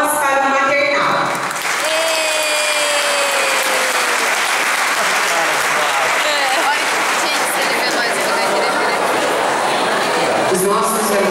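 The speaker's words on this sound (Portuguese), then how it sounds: "Palmas para o maternal." A crowd claps for the nursery class at a school Mother's Day party, loud and continuous applause mixed with children's voices and chatter, with a rising whistle-like tone early on and general room noise throughout.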